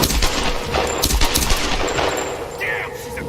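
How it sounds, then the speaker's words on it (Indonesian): Gunfire fills a combat scene in Tomb Raider Definitive Edition, rapid dense shots and bursts layered with explosions and chaotic action noise, loud and continuous throughout. "Ini tembaknya."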